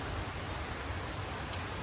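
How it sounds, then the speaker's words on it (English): A steady rain falls during the rainy season, a dense, even hiss of drops that fills the whole moment without pause. "it's been a steady rain"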